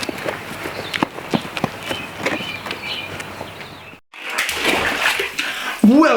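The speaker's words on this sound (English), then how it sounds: "Welcome to my bubble bath." Water splashes and sloshes in a bubble bath at home, with repeated bursts and drips, a brief silent gap, then a louder, fuller burst of splashing near the microphone.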